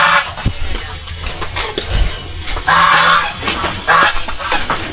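A goose honks repeatedly and loudly close by, harsh nasal calls in quick runs, outdoors with rustling and handling noise around it.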